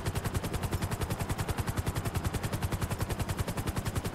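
Rapid, sustained machine gun fire in the video game GTA 5 Online, a loud, even stream of closely spaced shots with no gaps, heard alone.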